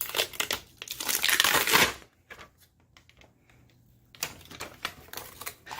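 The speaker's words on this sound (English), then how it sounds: "Just peel that off." Backing paper peeled off a craft package, close crinkly tearing and rustling in two bursts, a longer one first, then a short pause and another shorter peel.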